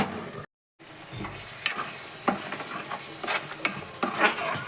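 A spoon stirs tomato curry in a frying pan, scraping and clinking in irregular strokes over a steady oily sizzle, close and fairly loud, after a brief silent gap at the start.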